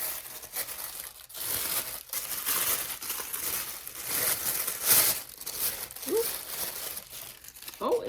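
Wrapping paper crinkles and tears as an advent calendar gift is unwrapped up close, steady rustling and crumpling throughout with a couple of brief vocal sounds.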